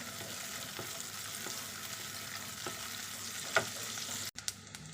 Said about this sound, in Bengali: ঘিটা গরম হয়ে গেছে, আর এখন কাজু কিশমিশগুলো দিয়ে দিচ্ছি। হালকা করে ভেজে নেবো।